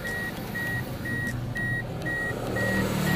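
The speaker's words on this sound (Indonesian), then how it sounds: "So, ibabalitag ko yung buzzer ko." Car alarm buzzer being wired into a Toyota Altis alarm system, sounding a steady series of short, evenly spaced high beeps, about two per second, over a constant loud background hum.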